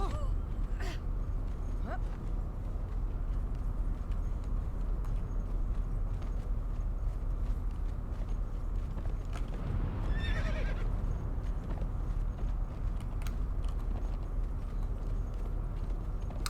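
A horse whinnies near the middle over a steady wash of background noise in the video game Conan Exiles, with scattered hoof clops and short clicks around it.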